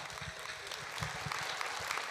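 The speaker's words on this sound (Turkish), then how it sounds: "Alkışlar, alkışlar dostlar" A crowd at a Crimean Tatar Hidirellez concert claps steadily, a dense wash of applause throughout.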